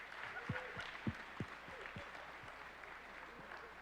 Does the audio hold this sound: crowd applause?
yes